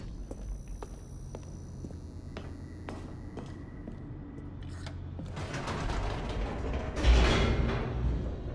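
A large door mechanism in The Stanley Parable grinds open with creaks, clanks and ratcheting gear noises, building into a loud heavy rumble and a final thud, up close with no voices.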